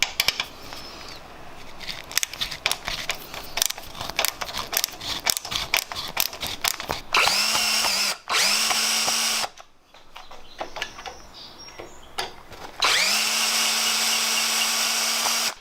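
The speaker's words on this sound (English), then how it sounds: "We got to remove these, which they look like Phillips head." Power drill working on Phillips head screws of an Apollo 125cc pit bike, with clicking ratchet-like taps followed by several sustained whirring motor runs, some stopping abruptly, close and loud with no talk.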